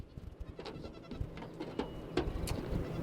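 Goats bleat in short repeated calls outdoors, several separate bleats spread across a few seconds at moderate distance, with light background rustle and no talk.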